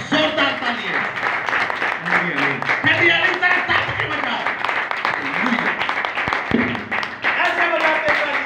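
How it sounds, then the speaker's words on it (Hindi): Congregation clapping in applause during a Hindi-language Christian church service, a steady dense patter of many hands filling the whole stretch, mixed with voices and a loud room. "यीशु की जलालियत के लिए एक बार जोरदार ताली है।"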